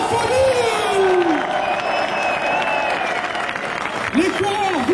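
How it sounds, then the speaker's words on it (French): A trail race crowd applauds and cheers at the start, a continuous loud roar of clapping and shouts under an amplified announcer's voice. "vous allez prendre double dose d'applaudissements"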